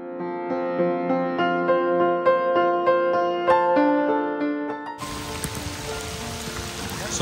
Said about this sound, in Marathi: पाऊस पण जोरात आलेला आहे